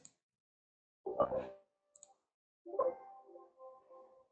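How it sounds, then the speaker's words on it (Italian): Two clicks of a computer mouse while installing a program on Windows, quiet and close, each a short sharp tap followed by a faint tail, with silence between. "fa un doppio clic"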